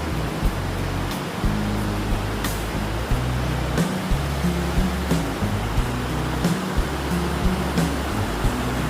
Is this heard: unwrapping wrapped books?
no